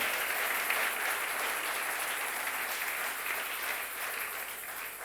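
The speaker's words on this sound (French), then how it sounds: "Est-ce que quelqu'un peut acclamer pour le Seigneur avant qu'on avance?" A church congregation at a French-language service applauds steadily, a dense even wash of clapping held for about five seconds with no voice over it.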